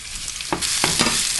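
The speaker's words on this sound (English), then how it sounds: "now we're gonna fry our onions now" Onions fry and sizzle steadily in a pan, close and fairly loud, with a few brief stirring scrapes and no voices, as part of cooking low-carb, low-salt, low-fat pancit.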